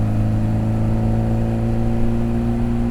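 A 1965 Austin Mini Cooper S engine holds a steady, loud idle-to-mid rev, its buzzing mechanical drone continuous and close.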